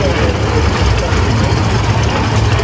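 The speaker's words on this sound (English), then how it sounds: "Not a lot of those diesels around. And that's kind of a rare tractor in the diesel form." A rare diesel tractor, a 1947 B.F. Avery, running at a steam and gas engine show in Baraboo, Wisconsin, with a steady loud low engine rumble close by and wind-like outdoor noise over it.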